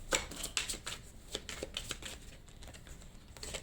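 A deck of tarot cards is cut and handled at a reading, giving a run of soft, quick card flicks and riffles close by, with no talk over them.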